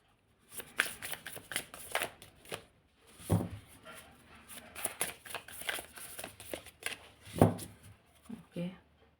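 A deck of tarot-style cards being shuffled, with repeated riffling bursts and two sharper slaps, close and fairly loud, with some faint talk in the background.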